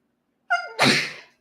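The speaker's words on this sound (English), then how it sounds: "I want to sneeze." One close human sneeze: a brief breathy intake rising into a sharp, loud explosive burst that trails off, heard alone in a quiet room.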